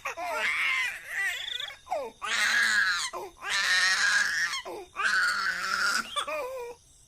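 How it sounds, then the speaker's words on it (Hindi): A little girl cries in an animated horror story, with loud, sustained wailing sobs in several long bursts broken by short gasping pauses. "गुड़िया के रोने की आवाज से कोमल की लाश तड़पने लगती है"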